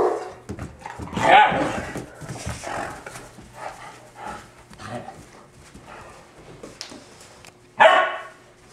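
A dog barks in a few sharp bursts with whimpers between, close by, mixed with people talking.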